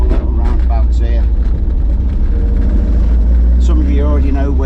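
Porsche 914 driving around roundabouts, a continuous low engine rumble from inside the car, steady and fairly loud, with someone talking over it throughout.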